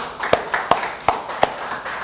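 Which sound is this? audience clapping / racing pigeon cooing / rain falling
audience clapping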